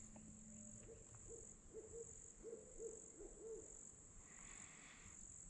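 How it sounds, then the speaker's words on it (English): Two owls hoot back and forth in a quiet, foggy swamp after a prescribed burn, a run of soft, distant calls over a steady bed of crickets and frogs. "that's all you can hear is these two owls talking"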